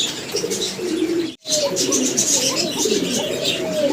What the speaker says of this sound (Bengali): তো দর্শক অনেক পাখি কবুতর ডাকে